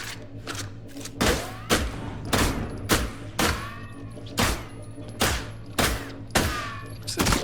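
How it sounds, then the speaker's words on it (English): Gun turret in The Last Caretaker fires heavy, evenly spaced booming shots, around a dozen sharp thumps with short ringing tails over a low mechanical hum, close and loud. "There's definitely a weird gun turret had a go at me then."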